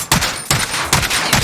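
Kar98 bolt-action rifle shots fire in Call of Duty Warzone, four sharp loud cracks spaced evenly about a third of a second apart, close and punchy, with no talk.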